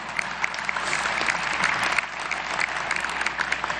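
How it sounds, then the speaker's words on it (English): Audience in the New Jersey General Assembly chamber clapping at the organization session, a steady, even roar of many hands throughout with scattered distinct claps, no talk over it. "You can clap for that."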